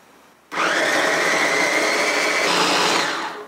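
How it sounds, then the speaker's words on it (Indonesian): An Ideal Life electric chopper whirs loudly and steadily as it mashes bananas. The motor starts abruptly, holds an even high drone for about three seconds, then shifts slightly in pitch as it winds down. "Untuk menghaluskannya di sini aku menggunakan chopper elektrik dari Ideal Life."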